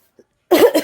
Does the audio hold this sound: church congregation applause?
no